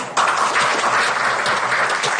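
Applause from an audience during a Turkish drama scene, steady dense clapping at moderate loudness that starts abruptly after a brief quieter moment and continues evenly.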